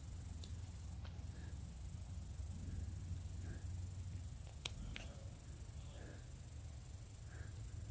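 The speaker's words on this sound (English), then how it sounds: "I hope that a cricket or a grasshopper isn't bothering you. It's a high pitch" A steady, high-pitched insect whine, like a cricket or grasshopper, holds faintly and continuously above low background rumble.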